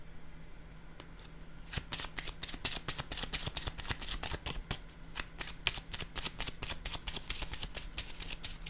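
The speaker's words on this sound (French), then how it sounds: "je vais déposer une autre carte ici" Tarot cards handled, shuffled and set down on a table, a dense run of crisp papery riffles and flicks lasting several seconds, close and steady with no voices.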